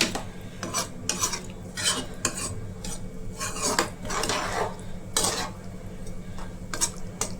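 Andhra chicken curry cooks in oil in a pot while a metal spoon stirs and scrapes it in repeated bursts. A soft simmer runs underneath at moderate volume, and there is no talk.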